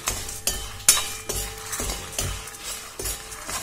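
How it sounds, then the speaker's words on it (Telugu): Tempering spices fry in a pan for an ivy gourd and onion-chili curry, a soft sizzle broken by rhythmic spoon scrapes and metallic clinks about every half second, close and fairly quiet. "పోపు వేగుతుంది"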